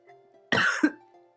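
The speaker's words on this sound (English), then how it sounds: "I just sort of cough like." A person gives a single sharp, close cough with a short throat-clearing tail, standing alone against faint background hum.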